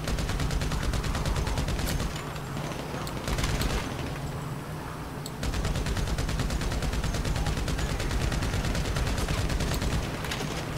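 Machine gun fire in GTA 5: sustained rapid bursts with a dense, even rattle, broken by a short pause partway through and then resuming just as loud.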